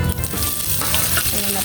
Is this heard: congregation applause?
no